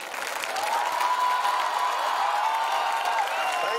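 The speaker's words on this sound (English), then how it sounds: "Please clap loudly." Loud, dense applause from a large audience at a college foundation day celebration, sustained and steady for several seconds with a faint murmur of crowd voices mixed in.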